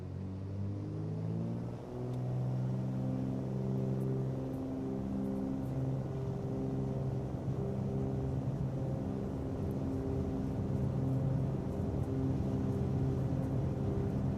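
A light aircraft engine runs up to full power for takeoff in Microsoft Flight Simulator, a loud, continuous droning roar that holds steady with a slight rise in pitch.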